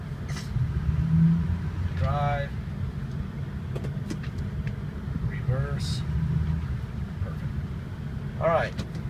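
A Ford F250 diesel truck engine runs steadily at a low rumble as the transmission is shifted through gears, with brief voice sounds appearing over it.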